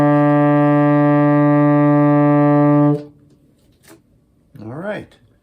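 Tenor saxophone sustaining a steady E on the bottom line of the staff, a rich harmonic tone held loud and alone for about three seconds before cutting off, followed by a brief voice.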